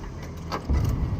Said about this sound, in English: Kind of hear the rumble of the street here as the car's driving up.